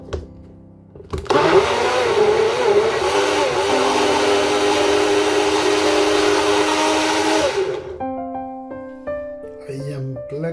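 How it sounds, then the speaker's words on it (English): A blender whips up an Ubunga drink, kicking in abruptly with a loud, steady whirring roar that holds for about seven seconds before cutting off, followed by some quieter tonal sounds. "I am blending my Ubunga drink"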